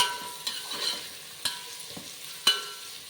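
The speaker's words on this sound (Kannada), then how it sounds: "ಈರುಳ್ಳಿನ ನೀಟಾಗಿ ಫ್ರೈ ಮಾಡ್ಕೊಳ್ಳೋಣ. ಗೋಲ್ಡನ್ ಬ್ರೌನ್ ಆಗೋವರೆಗೂ ಫ್ರೈ ಮಾಡ್ಕೊಬೇಕು." Onions for mutton biryani fry in oil while being stirred, a soft steady sizzle broken by several scraping knocks of a spoon in the pot, close by with no voices.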